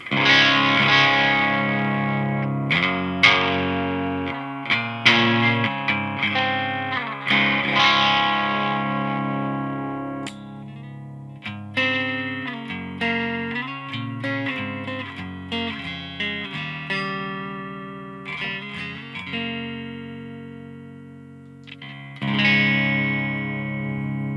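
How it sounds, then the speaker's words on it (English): An electric guitar plays chords and riffs through a clean amp on the edge of breakup, slightly gritty with some ambience, no talking. "our clean tone, edge of breakup sounds a little like this"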